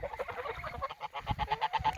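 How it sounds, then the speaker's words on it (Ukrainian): A pair of geese, a gander and a goose, honking in quick repeated calls close by, the nasal cries coming in a steady rapid series with no talking. "ось їх два, парочка, гусак і гуска"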